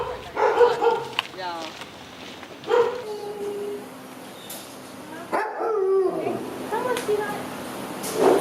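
Dogs at a shelter reunion let out scattered barks and yips, some close and sharp, mixed in with people talking nearby.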